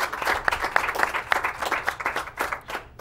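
An audience gives a brief round of applause for a musician at a local talk show taping, dense clapping that rises and tapers over a few seconds.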